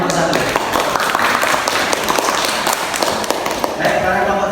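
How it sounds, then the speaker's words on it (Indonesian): A classroom group of students claps for a presenting group, a dense, steady patter of many hands lasting throughout, fairly close and loud with some voices mixed in. "Boleh kasih tepuk tangan untuk kelompok 1."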